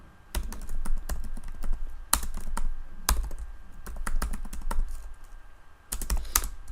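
Selenium WebDriver code is typed on a computer keyboard: bursts of quick, crisp key clicks with short pauses between runs, close and fairly quiet, with no one speaking.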